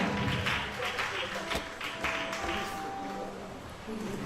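Church congregation applauding for a ministry's tenth anniversary celebration as the cake is cut, a steady dense wash of clapping with cheers and voices mixed in throughout.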